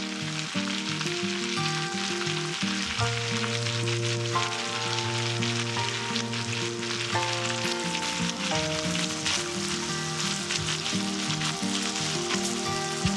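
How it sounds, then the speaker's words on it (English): Food stir-fries in bacon grease in a pan with a steady, crackling sizzle that continues throughout, set against tonal background music. "you're basically just stir frying it in the bacon grease"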